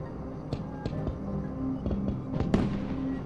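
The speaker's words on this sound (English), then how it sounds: "I like the fireworks. I might be overusing the fireworks." Fireworks in the train game Derail Valley: a string of sharp pops and cracking bursts at irregular intervals over a steady low rumble, with no talking.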